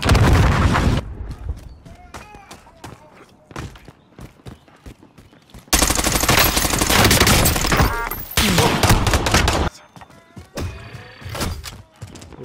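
Video game gunfire in the shooter Warzone: loud bursts of rapid automatic shots and heavy thuds come in clusters with quieter gaps between them, and faint voices are present.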